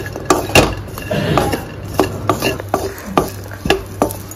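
Raisins being roasted and stirred in a pan for homemade baby food: a spoon scrapes and clinks against the metal in a series of sharp, regular strokes over a soft background sizzle.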